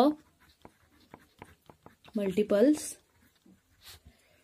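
Pen or pencil writing multiples of numbers by hand for a fifth-grade maths lesson on fractions, a series of short scratchy strokes spread across the clip, with a brief burst of talking in the middle.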